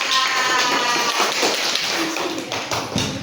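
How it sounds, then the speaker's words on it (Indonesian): Classmates clap for a student group in a classroom. Many hands patter in a dense, fairly loud wash of claps that fades slightly toward the end, with faint voices underneath. "Tepuk tangan buat kelompok 2."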